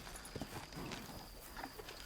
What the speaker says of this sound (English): Let's rest the horses.